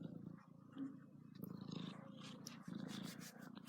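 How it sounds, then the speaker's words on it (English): A cat purrs softly and continuously while getting a belly rub, a low steady rumble close to the microphone with faint rustling over it. "we can hear you purring now, Larry."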